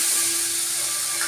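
Poppy seed paste poured into hot oil that has been tempered with nigella seeds, giving off a steady, bright sizzling hiss that holds at an even level throughout.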